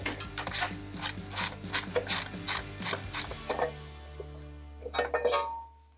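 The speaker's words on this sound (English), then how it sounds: "Pull our other nut off here." A hand ratchet loosens a nut on a Harley-Davidson Sportster, a quick run of close, crisp clicking strokes that slows and stops, followed by a few metallic clinks.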